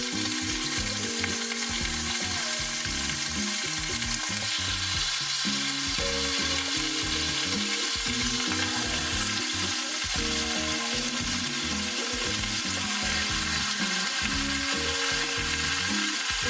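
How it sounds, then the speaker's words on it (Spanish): Pork chops fry in a pot of oil with a loud, continuous sizzle and crackle that stays dense and steady throughout, with no talk. "Ahora vamos a empezar a freír las chuletas."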